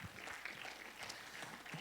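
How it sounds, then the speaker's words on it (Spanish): Church congregation applauding after a prayer, a soft, distant wash of clapping held steady throughout with some crowd murmur underneath. "¿Le puede dar un fuerte aplauso al Señor?"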